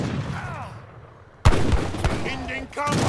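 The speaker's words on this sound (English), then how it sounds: "Look how bad that shooting is." Musket gunfire crackles in Age of Empires III, a few sharp loud shots bursting in after a quieter stretch, mixed with game sounds and distant chirping tones.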